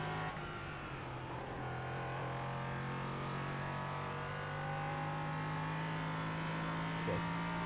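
A race car engine in the iRacing sim, an SR8 or LMP3 prototype, holds a steady, sustained drone with gradually rising pitch, continuous and fairly loud with no talk.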